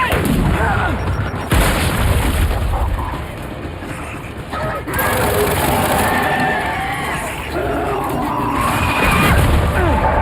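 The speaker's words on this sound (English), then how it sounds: "Throwing grenade!" A grenade blast in a first-person shooter video game: loud booming explosions and gunfire crackle fill the scene with dense, chaotic noise, and speech is heard mixed under the combat.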